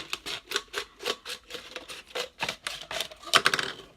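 Sharp scissors snipping through a plastic Coke bottle, a rapid series of about a dozen crisp, evenly spaced cuts close by, with no talk.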